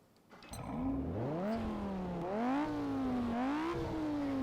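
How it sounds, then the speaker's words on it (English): A Lamborghini Gallardo V10 in the racing game Test Drive Unlimited cranks and fires up, then revs repeatedly, its pitch climbing and dropping in several smooth swells over a steady idle, fairly quiet overall. "shall we get a Gallardo startup?"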